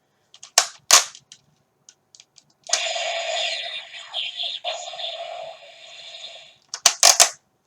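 Several sharp pops from a Power Rangers Super Megaforce Super Mega Cannon toy, then a sustained electronic blaster sound effect lasting a few seconds, followed by more quick bursts; close and loud.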